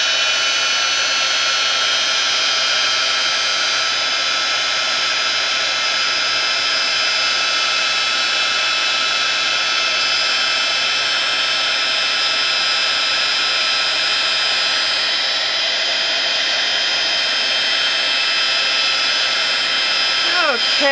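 An embossing heat tool blows hot air onto a Christmas craft card, a continuous loud, close whirring hum with a steady high whine that holds unchanged throughout.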